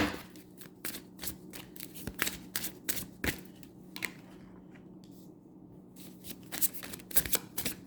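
Tarot cards being shuffled close by: repeated crisp riffles and slaps in uneven bursts, fairly quiet, with a short lull midway before the shuffling picks up again.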